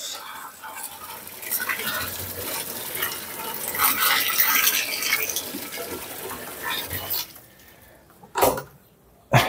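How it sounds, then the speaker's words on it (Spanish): Water runs from a tap into buckets, a steady splashing, hissing gush that fills most of the stretch before cutting off, followed by a couple of sharp knocks near the end. "Ábrime la canilla ya."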